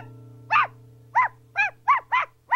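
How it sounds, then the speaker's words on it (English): A puppy yelping at night in a run of six short, sharp high cries at uneven intervals, close and loud over a low steady hum. "Pal yelped and howled until he woke up the entire family."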